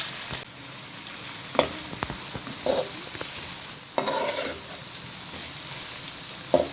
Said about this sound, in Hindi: अब इसी घी में हम प्याज डालेंगे